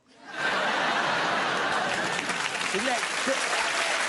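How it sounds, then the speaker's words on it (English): A TV game-show studio audience bursts into loud, sustained applause that swells within half a second and holds steady, with a few cheers and a brief voice breaking through near the end. "Oh, applause! Oh, I didn't expect applause for that joke"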